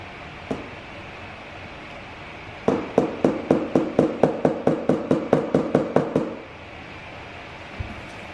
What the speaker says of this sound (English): Now I'm just going in and tapping a little hole